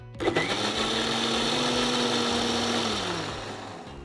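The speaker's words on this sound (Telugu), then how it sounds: "పుదీనా ఆకులు వేసి లిడ్ క్లోజ్ చేసి మిక్సీలో చర్న్ చేద్దాం" A mixer grinder blending mint leaves and water starts abruptly with a clatter, whirs loudly at a steady high pitch for a few seconds, then winds down.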